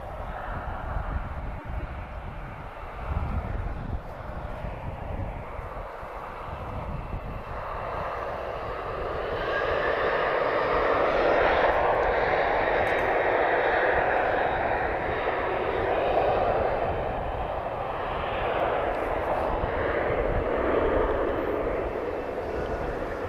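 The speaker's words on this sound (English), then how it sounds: "Ryanair, she's off to Funchal, Madeira. 737-8" A Ryanair Boeing 737-8 jet departs Lisbon Airport for Funchal, its engines building from a low rumble into a loud, sustained roar that holds steady and then eases slightly as the jet moves away.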